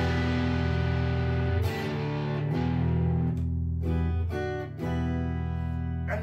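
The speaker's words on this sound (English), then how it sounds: "And it's got an electric, which sounds like this." A Yamaha AEX500 electric guitar strummed through its magnetic pickup, giving full sustained chords with a slightly driven edge, fairly close and loud, with a few chord changes and brief pauses between strums and no voices.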